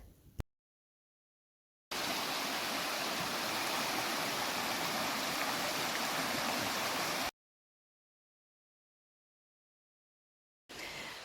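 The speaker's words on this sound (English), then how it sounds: "you could probably hear the river in the background" River stream rushing near Glenashdale waterfalls on the Isle of Arran, Scotland, a steady broadband wash of flowing water heard in a block of several seconds, framed by abrupt silent gaps.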